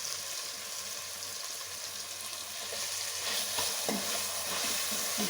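Chopped tomatoes frying in a pan for a chicken fry give a dense, steady hiss that swells slightly partway through, with faint stirring, no talking.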